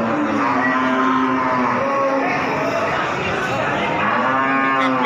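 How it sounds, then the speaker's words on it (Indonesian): A three-month pregnant Pegon cow at the Wirosari cattle market in Grobogan, Indonesia, lets out long, loud, drawn-out moos close by, with market crowd noise in the background. "ini ada sapi pegon hamil 3 bulan"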